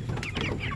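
Backyard chickens cluck in a short burst of close, overlapping fowl calls over a dense, noisy background.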